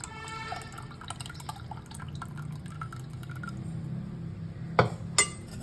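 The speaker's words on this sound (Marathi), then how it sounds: "आता हे पाणी आपण ह्याच्यात गाळून घ्यायचं" Water from separated butter drips and trickles through a strainer into a pot in a quiet, steady patter, ending with a couple of sharper clinks.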